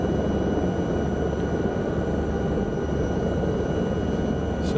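A Lama helicopter comes in to land at Peterborough Conington Airport in Microsoft Flight Simulator, its steady engine whine and rotor drone holding loud and constant throughout with no talk.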